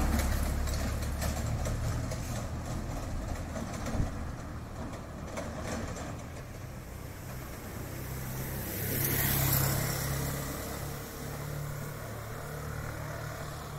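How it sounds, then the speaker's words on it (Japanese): A car climbs the steep Nozoki-zaka slope in Tokyo, its engine a low, steady idle-like drone that swells slightly as it passes nearby, alone with no talk over it. "車が登ってきます。"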